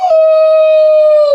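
A person's voice imitates a wolf howl: one loud, sustained, pure-toned note held steadily for over a second, then dipping slightly at the end.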